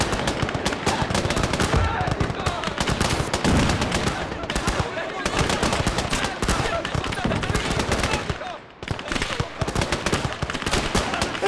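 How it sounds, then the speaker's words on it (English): Machine gun fire in a World War I battle game on the Isonzo front, with Italian Alpini fighting Hungarians: rapid, dense bursts of gunfire running almost without a break, loud and near, with a voice talking over it. "Oh, we got a nice machine gun here, though."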